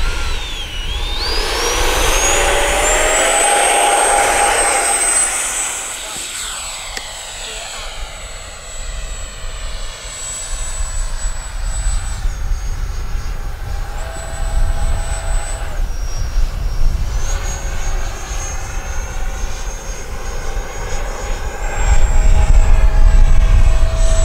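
An FMS Rafale 80mm RC jet airplane roars past nearby on a sunny day, its whining ducted-fan pitch sweeping high, then easing into a steadier hum as it flies off and returns.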